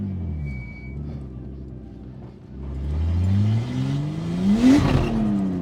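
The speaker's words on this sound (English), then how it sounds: "Let's see if we can make like just a careful acceleration without making too much wheel" A Nissan R34 Skyline engine accelerating gently, the loud close engine note climbing smoothly in pitch after a brief lull, with a rising whine as revs build.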